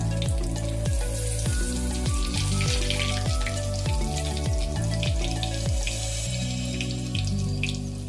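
Whole cumin and whole spices crackle and sizzle in hot oil, a dense continuous frying hiss with scattered pops, close up and with nobody talking.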